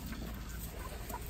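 Chickens cluck softly in a coop, faint and scattered under a steady background hiss, with no talking.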